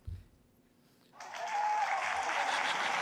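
Conference audience at the 2012 Manning Networking Conference breaking into applause after a short quiet moment, the clapping rising quickly into a dense, sustained wash that stays fairly loud to the end.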